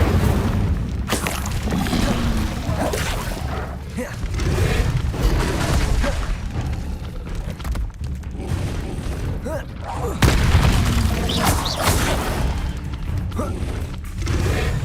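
The Incendio fire spell in Hogwarts Legacy erupts as a loud, continuous roar of booming blasts and crackling bursts that stays dense and forceful throughout the stretch.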